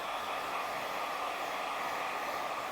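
A hair dryer blowing on hair in a salon, a steady, unbroken rush of air with a constant whirring hum, moderately loud and even throughout, with no voices.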